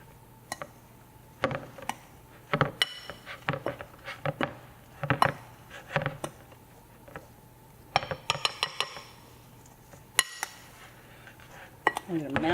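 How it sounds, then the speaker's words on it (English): Pumpkin spice body polish made with oil and pumpkin seed oil being mashed and mixed in a bowl, giving repeated scraping clinks and knocks of a utensil against the bowl in an irregular rhythm, close and moderately loud. "So we're just going to mash this all together."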